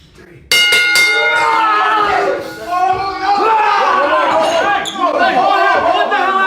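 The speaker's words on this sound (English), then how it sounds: "They rang that bell and woke me up." A bell rings out loudly in a rapid series of bright metallic strikes with sustained, overlapping ringing tones, repeated in a continuous clanging burst that fills the whole moment.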